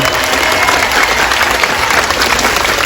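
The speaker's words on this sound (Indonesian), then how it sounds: "tepuk tangan untuk beliau" A crowd at an Islamic religious gathering in a Taichung park claps together in a loud, continuous burst, with faint voices mixed underneath.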